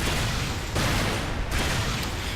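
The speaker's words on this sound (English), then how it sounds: "You cannot avoid a shot combo anywhere near that." A shock combo blast from the Unreal Tournament 3 duel map DM-Sentinel erupts as a dense, loud explosive burst amid continuous gunfire-like game noise, with more bursts following.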